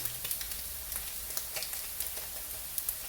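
An egg fries in a pan with a steady soft sizzle and scattered small pops and crackles, quiet and close, with no one talking.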